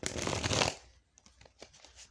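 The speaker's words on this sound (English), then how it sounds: "I don't know what I shuffled this for because I think I'm done with pulling cards from that deck" A deck of cards is shuffled in one quick riffle close by, followed by a few soft paper taps and rustles.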